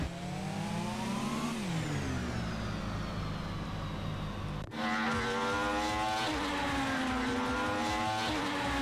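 Race car engine in the Sega Touring Car Championship arcade game, a loud continuous high-pitched whine that climbs through the revs, drops sharply at a gear change and then builds again, with no talking over it.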